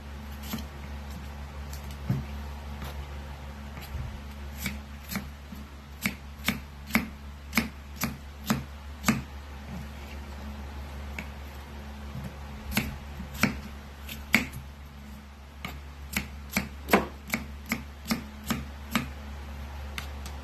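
A knife chops a cucumber into small pieces on a board, sharp dry taps in quick irregular runs, some close and crisp, with a low steady hum beneath.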